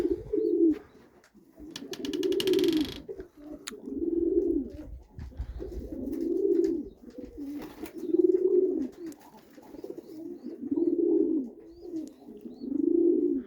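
Pigeons cooing in a loft: deep, rolling coos repeat in a steady rhythm, close and clear, with a brief burst of fluttering wings early on.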